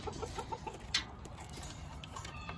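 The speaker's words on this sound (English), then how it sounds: "This is my special needs little rooster" Soft, quiet clucks from a rooster, a few short calls early on and one sharper note, over faint background noise.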